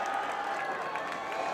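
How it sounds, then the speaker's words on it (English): A home crowd at a Bingham Miners high school football game against Timpview cheers in a broad, sustained roar, with distant voices blended into the noise. "you can hear the cheer from this Bingham Miner crowd as they're trying to pump up their team"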